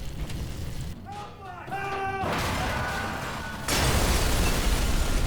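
An explosion rumbles in the Black Mesa game, with a broad roaring blast that swells suddenly near the end amid layered game noise and tonal machine sounds earlier.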